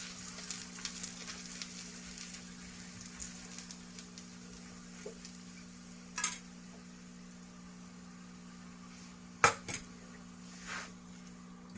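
Aloo paratha, a potato-stuffed flatbread, fries in oil on a pan with a steady low sizzle and hum, broken by a few sharp clatters of a utensil against the pan.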